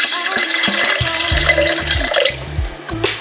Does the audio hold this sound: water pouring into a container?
yes